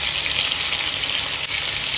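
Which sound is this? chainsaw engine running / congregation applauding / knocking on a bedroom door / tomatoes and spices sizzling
tomatoes and spices sizzling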